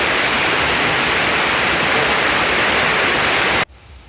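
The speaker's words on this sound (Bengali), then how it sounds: "এই হচ্ছে ব্যাংঝিরি ঝর্ণা দামতোয়া ঝর্ণা" Damtua waterfall in Alikadam, Bandarban, a loud, steady, close roar of rushing water that cuts off abruptly near the end, leaving only faint background noise; no talk.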